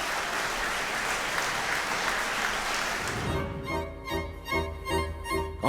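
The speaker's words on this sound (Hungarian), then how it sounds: "A gyerekek koncertje végén az Európa Tanács vezető tisztségviselői állva tapsoltak." A standing audience of officials gives dense, sustained applause at the end of a children's concert, and the clapping then fades as tonal music begins.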